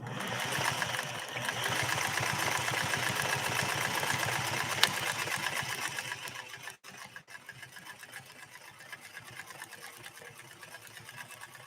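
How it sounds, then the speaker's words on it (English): Singer 401A sewing machine stitching: a fast, steady mechanical chatter at close range, running continuously, then easing slightly lower and softer partway through but carrying on to the end. "Wilma is doing a special stitch just for her girl."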